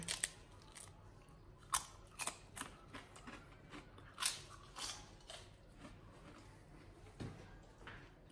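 Homemade thin potato chips crunch in close bites, a series of sharp irregular crackles and snaps spread over several seconds against a quiet background.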